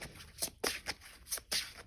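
A silky deck of tarot cards is shuffled by hand in a few quick, soft riffling bursts, close and quiet, with no speech.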